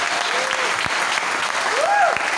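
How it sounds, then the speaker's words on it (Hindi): An audience applauds for director Tempa Sherpa at a Nepalgunj gathering, a steady wash of clapping through the whole stretch, with a whistle-like tone rising and falling under it. "मैं जोरदार तालियां बजवाना चाहूंगा हमारे डायरेक्टर टेम्पा शेरपा जी के लिए"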